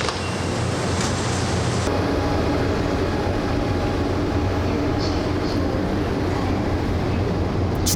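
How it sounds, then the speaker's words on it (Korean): Steady rumbling of a passenger train riding toward Gwangju, a continuous broadband roar of wheels and carriage noise, loud and close throughout with no pauses. "광주로 가는 기차를 탔습니다"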